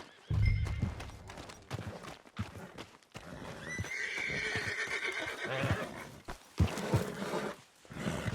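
A horse in Red Dead Redemption 2 whinnies and snorts over clip-clopping hooves, with rustling and thuds around it at moderate volume.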